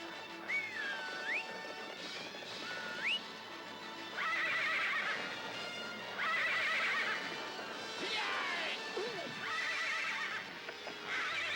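Horses whinny repeatedly, with high, wavering neighs rising over a steady clip-clop of hooves during a galloping chase. The sounds come from a 1983 Lone Ranger VHS production, moderately close and without voices.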